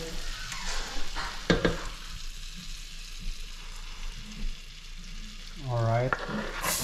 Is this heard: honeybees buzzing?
no